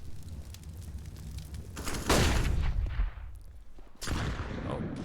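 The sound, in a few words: gunfire in Counter-Strike video game on Dust2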